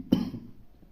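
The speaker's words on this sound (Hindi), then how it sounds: "सॉरी, खांसी हो गया।" A single short, muffled cough from a man close to the microphone, quickly fading into near silence.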